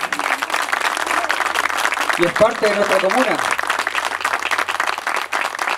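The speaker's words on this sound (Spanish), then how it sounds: "también el aplauso nuevamente para él." A community heritage-day audience in Paine applauds a popular folk singer, a continuous crowd clapping that runs the whole time while someone speaks over it through a microphone.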